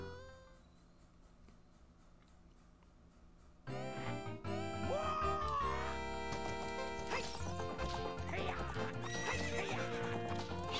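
In Zelda Ocarina of Time, a horse gallops with rapid clip-clop hoofbeats and repeated whinnies over game music, faint at first and then suddenly loud and busy for the rest of the clip.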